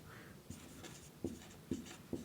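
A pen or marker writes the words perfect participle in a few short, distinct strokes, quiet and close with faint background hiss and no speech.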